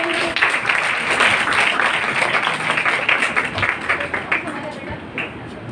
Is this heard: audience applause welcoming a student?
yes